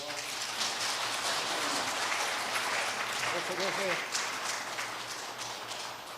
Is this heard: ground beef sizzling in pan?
no